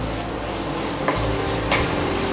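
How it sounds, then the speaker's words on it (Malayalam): Tomato puree going into a pan of frying fish pepper masala, giving a steady close sizzle with light stirring scrapes throughout, no voices. "അപ്പോൾ ഇതിലേക്ക് ടൊമാറ്റോ പ്യൂറി അഥവാ ടൊമാറ്റോ അരച്ചത്."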